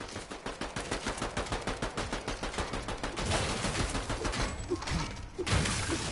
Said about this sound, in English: so they're shooting at each other